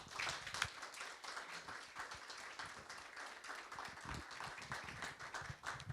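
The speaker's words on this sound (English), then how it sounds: "Can we please have a round of applause?" An audience at a talk on repairing the French republic claps steadily, a dense, even patter of many hands heard from a distance, fairly faint and sustained throughout.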